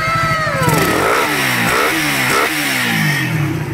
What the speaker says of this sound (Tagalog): Ito yung makina ni sir Yan mga boss, naandar yan mga sir.